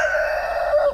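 Meat chickens in their outdoor enclosure give a close, sustained, drawn-out call, steady and fairly loud for about a second, with no voices over it.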